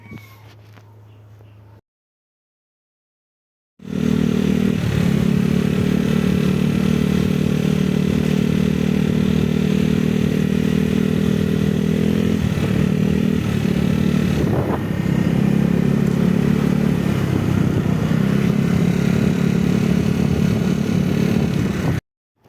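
Motorcycle riding along a road in fine weather, a loud, steady engine drone with wind rush that holds constant for most of the stretch after a short quiet gap at the start, with no talking.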